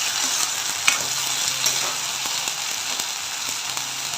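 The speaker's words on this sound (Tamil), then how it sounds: "நல்லா வதக்கிடுவோம்." Onion, tomato, ginger and garlic sauté in a pan for a brinjal kurma, giving a steady close sizzle with occasional scraping stirs and small clinks of a spoon, no talking.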